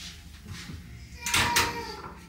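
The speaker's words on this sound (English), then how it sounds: "Now close the door." A door pushed shut in a home during a morning routine with six-month-old twins, giving a brief loud bump and rattle near the end, close by, after quiet household noise.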